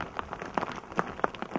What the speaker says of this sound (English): More and more rain.